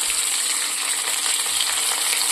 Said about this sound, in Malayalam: ഉള്ളി ഇട്ട് കൊടുത്തു.